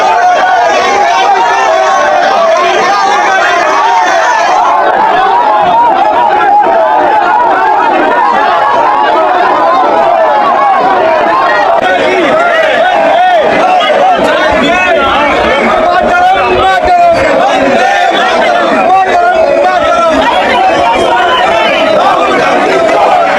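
Dense crowd of Congress and BJP members of parliament protesting face to face, a loud continuous babble of many overlapping voices with shouting, sustained throughout.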